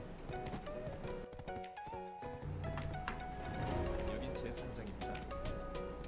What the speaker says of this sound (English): Need my horse for that.